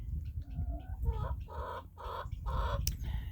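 Several hens cluck in short, repeated bursts, close by, with a steady low rumble of background noise underneath.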